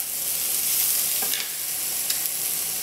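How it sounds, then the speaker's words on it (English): Shallots sauté in a hot pan with a steady, close sizzle and a few scraping stirs, all alone without any talk. "Now we're going to continue sautéing until the shallots have softened."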